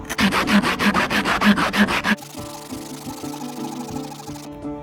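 A metal can scrapes rhythmically against a surface like sandpaper, with loud, rapid back-and-forth rasping strokes that give way to quieter, lighter rubbing.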